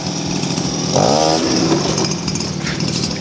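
A child's pedal kart converted to a small gasoline engine, running with a loud buzzy two-stroke drone close by and a brief rev rising and falling early on, no voices.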